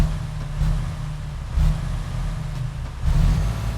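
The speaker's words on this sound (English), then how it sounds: "So, clutch in, start her up. Okay, I like that. It sounds like a very modern diesel." A Freightliner Cascadia diesel truck engine in American Truck Simulator runs loud and close, with a deep steady idle that swells in two brief revs.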